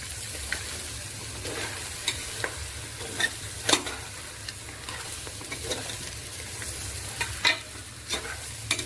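Masala for bone soup stirred in a pan, a low steady sizzle broken by irregular scraping clicks of the spoon against the pan, close and fairly loud with no talking.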